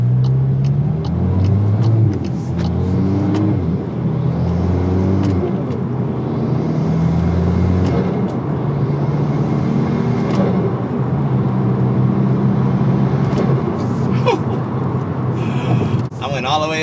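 A turbocharged Mk8 Volkswagen Golf R engine drones and climbs through the gears, with repeated rising pulls, short turbo whooshes at each shift and a steady loud rumble throughout.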